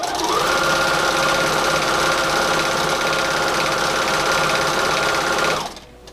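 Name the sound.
sewing machine stitching shirt fabric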